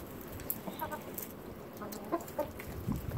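Several chickens cluck and chatter softly in short bursts while pecking at pomegranate, close by, over a faint rustling outdoor background in Minnesota.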